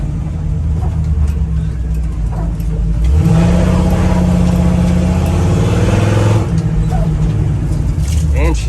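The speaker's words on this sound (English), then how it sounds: "Take it for a spin. Oh yeah, she's still got it." Restored 1961 Chevrolet Apache truck engine driving, a steady low rumble that rises in pitch as it accelerates midway, then settles back, loud and close throughout.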